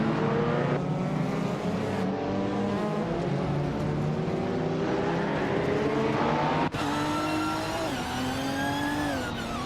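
Race car engines in a racing game at the Buxton Rumbler track, including a 2019 Ferrari 488, droning and revving continuously with rising and falling pitch through gear changes, steady and close for about ten seconds without voices.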